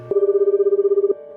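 A telephone ringing tone from an outgoing call: one steady, loud electronic tone lasting about a second, with a fast pulsing warble, starting and ending abruptly.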